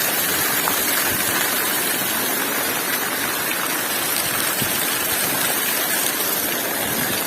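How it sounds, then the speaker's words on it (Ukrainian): Hail pours down steadily in a rural yard in the Lviv region, a dense continuous hiss and patter of ice striking surfaces and a roof, with no gaps throughout. "Оце вам град."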